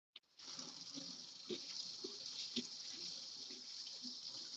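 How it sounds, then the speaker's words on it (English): Hands rinsed under a running tap: a steady hiss of water pouring into a sink, with faint splashes and small knocks as the hands move beneath the flow. "Let me rinse my hands."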